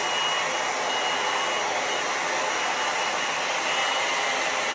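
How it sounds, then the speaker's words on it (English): A hair dryer blows in a steady, loud, close whoosh that holds for several seconds without pause. "Now I'm just gonna do my hair with this blow dryer."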